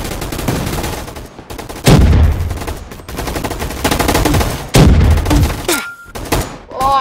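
A snowball launcher fires in Gunfight Arena, producing heavy thumping blasts, two of them especially loud and punchy, amid crackling rapid shots and brief whooshing tones.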